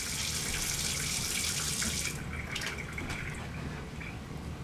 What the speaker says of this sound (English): Let me close the faucet.